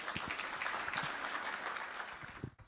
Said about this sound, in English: please give me a round of applause as we get tonight started formally